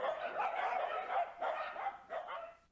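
Several rescued dogs barking at feeding time in a home-based shelter that also houses cats, a burst of overlapping yips and barks at moderate distance, fairly faint and without talk.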